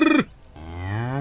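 A buffalo lets out a loud, close moo that breaks off abruptly, followed after a short pause by a second rising, drawn-out bellow, with no talking.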